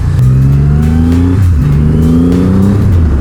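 A Triumph Rocket 3 R motorcycle's 2500cc engine accelerates hard, loud and close, its rising engine note climbing through two strong pulls with a brief dip between them.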